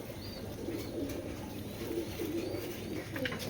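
Several pigeons coo in a loft where racer pigeons, including a ringed Andalusian pair, are kept, with soft low repeated coos and faint background chirps running steadily through the whole stretch.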